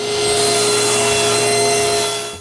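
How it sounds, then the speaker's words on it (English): A power saw rips through plywood to make strips for a woodworking jig, a loud continuous whining cut holding steady for about two seconds before easing off at the end. "I cut 2 plywood strips."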